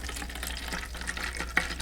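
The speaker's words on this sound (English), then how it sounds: "What you want to do is pour that into the bottle, fill it up" Lukewarm tap water pours into a bottle being filled about halfway, a soft continuous trickle and splash at close range, fairly quiet and with no talking.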